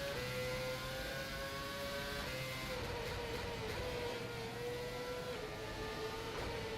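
Race car lapping in rFactor 2 at the Singapore circuit, a steady high engine whine that rises and falls with gear changes, continuous and fairly faint throughout.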